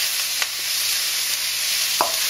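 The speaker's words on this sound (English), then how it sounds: "That's getting a good stir there." Tofu and chipotle chili sizzle in a pan, a loud steady hiss of frying with a couple of brief stirring knocks, heard close and without talk.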